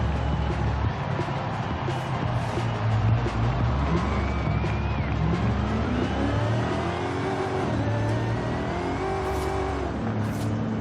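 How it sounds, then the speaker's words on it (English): A Dodge Super Bee engine in Forza Horizon 5 revs and roars steadily throughout, pitch climbing and falling with gear changes, loud and close with a faint tire squeal and no talk. "I love Super Bs. The sound of that thing is just amazing."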